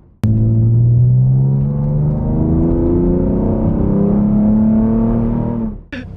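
A Ford Mustang with a new exhaust revs up with a deep, throaty roar, holding and swelling for several seconds before cutting off sharply.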